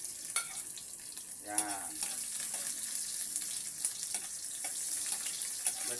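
Garlic, skins still on, sizzles in hot oil in a home kitchen, a soft steady frying hiss with a few stirring clinks and a brief burst of louder spattering, under a single short spoken word.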